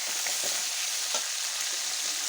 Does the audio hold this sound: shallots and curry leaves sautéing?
yes